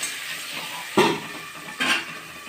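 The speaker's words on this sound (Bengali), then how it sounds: "একটু আমগুলোকে ভাজা ভাজা করবো" Mango pieces frying in a pan for a fish curry give a soft continuous sizzle, broken twice by brief scraping stirs or clanks of a utensil against the pan.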